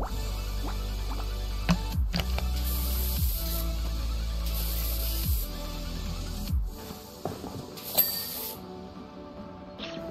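A pressure washer sprays metal cleaner in the Powerwash Simulator video game, a steady loud hiss with a deep low rumble that cuts off and restarts in several bursts, with short louder spurts near the end.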